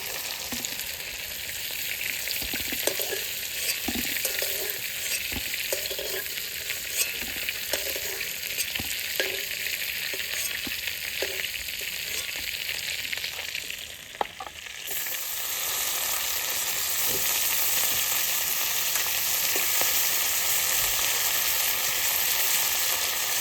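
Fish sizzles and spits steadily in hot oil in a pan, a close, continuous crackling fry with scattered pops and occasional stirring clicks, briefly dipping midway before the sizzle resumes louder.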